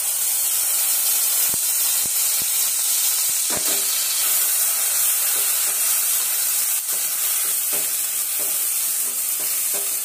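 Ground masala sizzles and hisses steadily in hot ghee for palak paneer, a loud, even frying crackle with a few sharp clicks of a spoon stirring the pan, and no one speaking.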